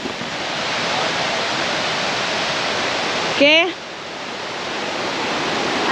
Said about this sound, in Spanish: Esta es la cascada principal.